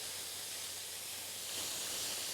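Food sears in a hot pan, a steady broad sizzle and hiss that swells slightly louder toward the end, with no voices.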